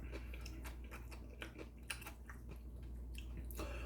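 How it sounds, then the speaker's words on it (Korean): Close, quiet crunching of crisp raw cucumber being chewed alongside cold spicy noodles and boiled egg, with irregular bites and wet mouth sounds over a low steady hum. "이게 오이가 더 성한 줄 몰라도 더 식감이 아삭아삭하고요"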